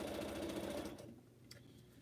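Sewing machine stitching pineapple quilt blocks, a brief close run of rapid motor whirring with even needle clatter that stops after about a second, followed by quiet handling sounds.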